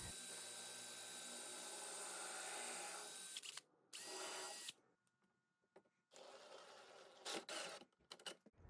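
Power drill pre-drilling pilot holes for wood screws in a wooden miniatures carrying case, a long steady whirring run followed by several shorter bursts and pauses, close and loud.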